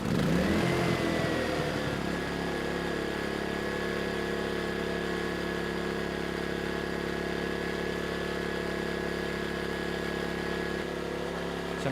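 An ERAYAK 4500W dual-fuel inverter generator engine starts and settles into a steady running hum, a brief rising whine at the start giving way to an even, constant drone close by.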